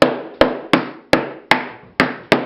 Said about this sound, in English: Give them a little tap with the hammer, make sure they're seated in there nicely.